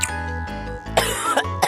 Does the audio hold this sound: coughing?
yes